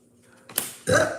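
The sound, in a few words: double burp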